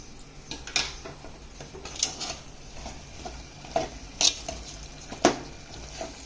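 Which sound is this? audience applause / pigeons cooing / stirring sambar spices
stirring sambar spices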